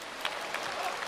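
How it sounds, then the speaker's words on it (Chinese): Audience applause at a live crosstalk comedy show: a steady wash of clapping from a full house, fairly even in level, with a few sharper claps standing out. "没想到还能引起掌声"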